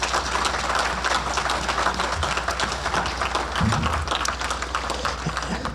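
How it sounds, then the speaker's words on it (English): Audience applause at a conference opening luncheon in Madison, a steady patter of clapping from a room of people with a low hum and some faint voices underneath. "So big round of applause for those folks."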